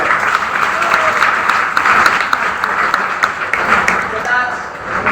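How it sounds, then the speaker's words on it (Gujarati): Audience applause for teachers at a school farewell gathering, a dense sustained clapping from a crowd in a hall that carries on for several seconds. "તો તાળી બનવી જોઈએ એવા ગુરુદેવો માટે"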